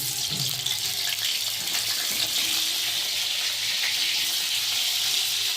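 Cauliflower pieces frying in hot oil in a pan give off a loud, continuous bright sizzle that stays steady and close throughout.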